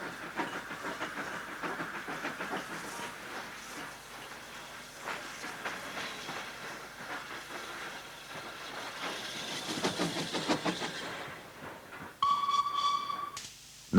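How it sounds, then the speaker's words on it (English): A War Department Class 2-10-0 steam locomotive, built in 1943, runs with a steady mechanical rumble and hiss throughout, growing louder and busier near the end, with a brief tonal whistle-like note in the last seconds. "Dame Vera Lynn is a War Department Class 210 built in 1943, a stretched version of the more numerous 280s."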